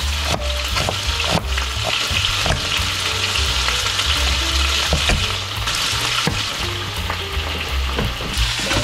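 Chicken pieces fry in a hot pan with steady loud sizzling and crackling, punctuated by occasional clinks and scrapes from stirring and turning.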